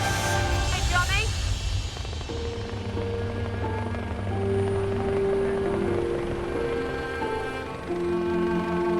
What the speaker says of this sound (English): The air ambulance has to clear the helipad to make room for the police helicopter